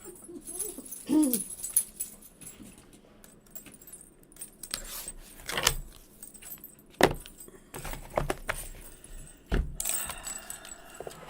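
A working dog whimpers in short, high, wavering bursts at close range, mixed with jangling metallic rattles and shuffling movement in a quiet room.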